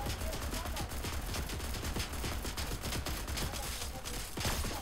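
Rapid Fortnite gunfire, a dense stream of sharp cracking shots at moderate loudness, firing in quick bursts throughout a few seconds amid busy game noise.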